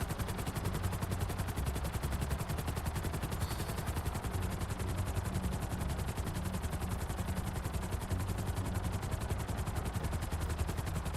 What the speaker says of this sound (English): It's a very nice helicopter for GTA to add into the game.